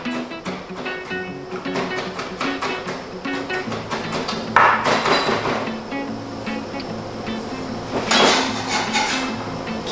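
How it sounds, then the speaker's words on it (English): Two garlic cloves chopped on a board with a knife, a quick run of sharp, close taps at a steady rhythm, with a few louder knocks among them. "This is 2 cloves of garlic. Just give it a nice chop."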